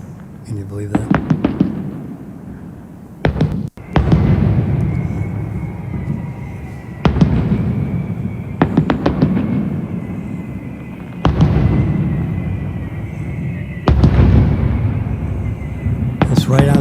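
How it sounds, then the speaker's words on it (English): A big fireworks display bursts just outside a balcony of the Boca Hotel, with repeated loud booms and crackling volleys every few seconds. Someone talks over the explosions. "It's a big fireworks display from the Boca Hotel."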